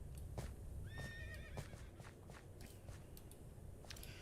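Minecraft horses from a video game, a close whinny rising and falling near the start amid soft clip-clop hoofsteps and scattered clicks, with no talking.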